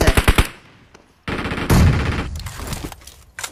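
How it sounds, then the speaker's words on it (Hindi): Machine gun fire in a competitive mobile shooter game, with a quick rattling burst at the start, then a loud sustained stretch of rapid gunfire and blasts that stays dense and close until the end. "भाई ये कौन सी गन चला रहा है बंदा"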